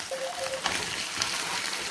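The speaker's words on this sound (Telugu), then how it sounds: "ఆయిల్ వేసి ఆనియన్స్ వేసుకోవాలి" Onions dropped into hot oil for a home-style chicken curry, giving a steady, close broadband sizzle with a brief stirring scrape partway through.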